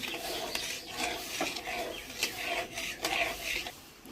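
A spoon scrapes and stirs through sugar syrup boiling in a pan, making repeated soft rasping strokes in an uneven rhythm, close and fairly quiet.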